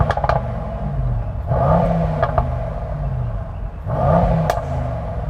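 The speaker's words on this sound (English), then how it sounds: "So I'm going to rev up the Merc first." Mercedes-AMG E63 S V8 engine revved while parked, two sharp blips that rise and fall a couple of seconds apart, loud and close over a steady idle.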